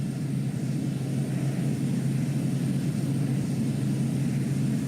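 Engine of a Piper M500 turboprop plane in Microsoft Flight Simulator 2020, a constant, even droning hum that stays steady and moderately loud throughout.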